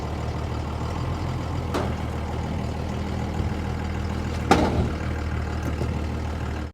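A 1986 Ford diesel truck with a Cummins engine idles steadily nearby, a deep constant rumble with a couple of brief sharper knocks or clanks over it.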